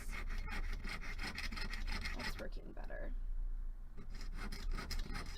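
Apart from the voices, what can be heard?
hand sawing metal for a bracelet hinge top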